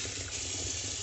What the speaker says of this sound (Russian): Перчик моем в проточной воде.